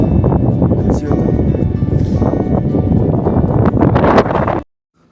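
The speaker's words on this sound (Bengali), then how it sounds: "আসছে ঠান্ডা হাওয়া" Cold wind buffets the microphone on the Everest Base Camp trek, a loud, continuous roaring rush that cuts off abruptly near the end, with a voice speaking under it.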